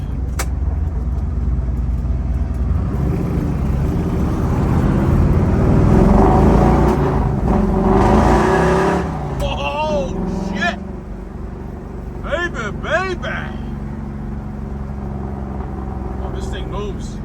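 A 1970 Chevrolet Nova drives and accelerates, the engine swelling to a steady roar before easing off, heard from inside the car with people talking over it.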